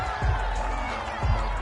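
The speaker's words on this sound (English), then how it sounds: "This home crowd, they're happy with that call." A home crowd at a football game in Baltimore versus Pittsburgh roars in approval of a call, a broad, sustained wash of cheering that stays loud throughout.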